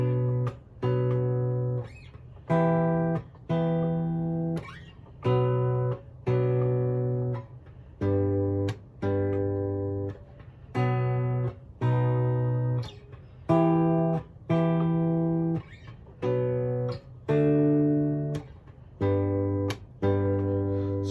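Guitar chords strummed one after another in short separated bursts, V chords played side by side in a steady rhythm, each ringing briefly before a gap, close and clear with no talking.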